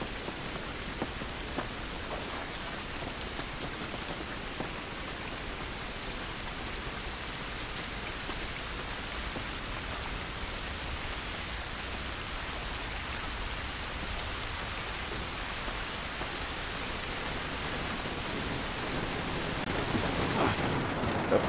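Heavy rain falls outdoors in the video game The Last of Us Remastered, a dense, unbroken hiss of drops on surfaces that stays steady throughout.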